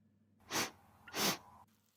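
Two quick, forceful sniffs through the nose, close by, with a short pause between them.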